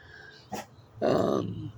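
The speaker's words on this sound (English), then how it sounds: "You barking at me?" A dog gives a short, rough bark close by, then a longer, louder growling bark right after.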